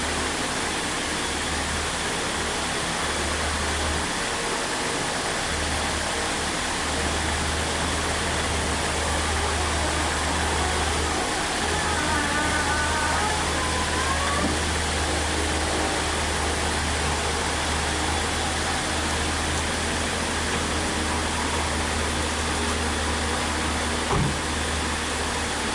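Chevrolet SSR pickup with a swapped LS V8 idling loudly and steadily, a constant deep rumble with broadband roar and no voices over it.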